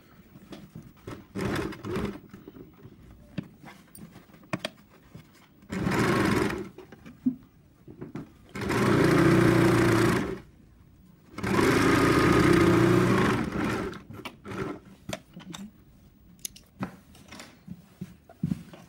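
A sewing machine stitches a wing hand sleeve piece in three loud, steady runs of a few seconds each, separated by quieter clicks and handling of the fabric.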